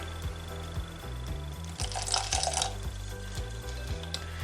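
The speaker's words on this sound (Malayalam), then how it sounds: "അപ്പോൾ ഇതിലേക്ക് അല്പം കൂടി വെള്ളം നമുക്ക് ചേർത്ത് കൊടുക്കണം." A quarter cup of water is poured into an eggless breakfast batter, a short splashing burst midway through, set against background music.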